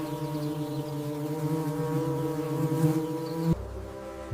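Worker honey bees buzzing steadily around a hive, a dense continuous drone with layered tones, close and fairly loud, cutting off abruptly near the end.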